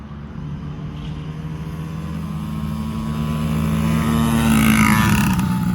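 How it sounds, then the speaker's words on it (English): A 2020 Yamaha PW50 two-stroke and a 2014 Honda CRF50 kids' dirt bikes drag race, engines buzzing steadily and growing louder as they approach and rev past, with no talk. "this is a race between my son with the 2020 Yamaha PW50 and my little cousin with the 2014 CRF50"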